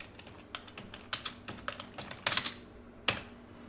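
Computer keyboard typing while setting up a circle layer in After Effects, a quick run of crisp key clicks in uneven bursts with short pauses, close and clear with no talk.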